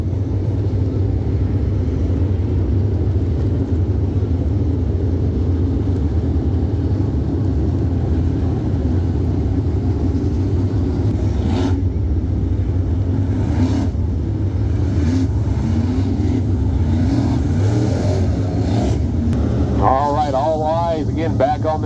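Late model race cars roaring back up to speed on a restart at Ksp Speedway, a loud continuous engine drone heard from the stands under a commentator's voice.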